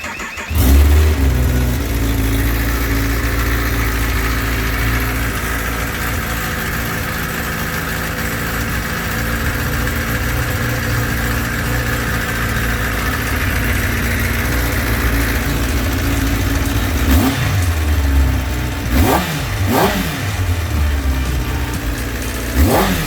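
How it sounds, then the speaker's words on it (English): A motorcycle with its stock exhaust starts up and settles into a loud, steady idle close by. Near the end, a few short sharp revs break through the idle. "Let me start the bike and show you how it sounds."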